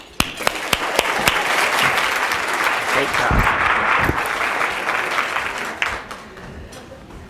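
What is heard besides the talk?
breakfast audience applauding speaker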